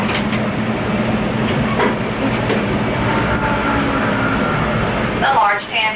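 A Busch Gardens tour train in Tampa rolls along its rails with a steady rumble and faint clacking, while a narrator talks over it.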